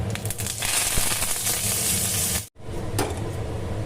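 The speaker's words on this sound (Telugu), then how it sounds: "పక్కన పచ్చడికి తాలింపు పెడుతున్నాం." Tempering for ginger chutney sizzles loudly and steadily in a pan, a dense frying hiss that cuts off abruptly for a moment, then resumes.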